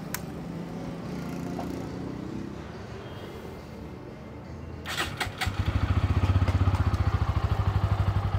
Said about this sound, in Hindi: अब स्टार्ट कर लेते हैं N160 को।